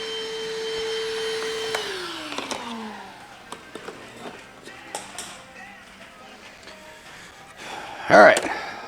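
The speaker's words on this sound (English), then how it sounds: "Battery change and more vacuuming." A vacuum cleaner running inside a fire-damaged 1969 VW Beetle winds down, followed by scattered knocks and clatter of tools and parts, with a voice speaking nearby.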